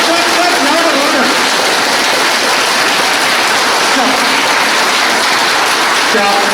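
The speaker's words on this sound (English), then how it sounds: "Clap, clap, clap, clap." A large group of students claps hard and fast in a loud, unbroken roar of applause that sounds almost like heavy rain, sustained throughout with faint voices underneath.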